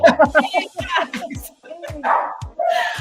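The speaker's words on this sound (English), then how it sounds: "I'm so sorry about the tiny chihuahuas barking just outside of my room here" Tiny chihuahuas bark indoors just outside a room, a burst of sharp, high yaps and yips close by that recur after a short pause, with a voice talking over them.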